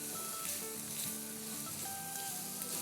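Onions sauté in a hot pan for tawa pulao, a steady close sizzle and crackle of frying that runs evenly throughout with no talking.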